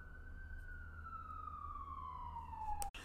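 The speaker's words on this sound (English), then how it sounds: "sorry, I'm gonna wait for that siren again." A police-type siren passes outside, heard faintly at a distance as one long wail that slowly falls in pitch, followed by a brief thump at the end.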